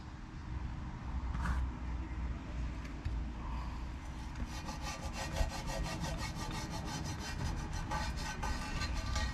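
Old valve cover gasket residue being scraped off the engine of a '68 Ford Fairlane: continuous close rasping and scraping strokes with a gritty, rhythmic texture that grows busier toward the end.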